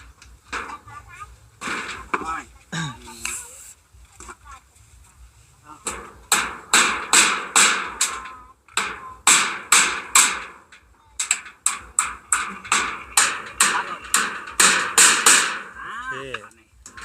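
A steady run of sharp hammer blows striking nails into a kitchen roof, close and loud, in quick rhythmic bursts with brief pauses, and a voice talking near the start.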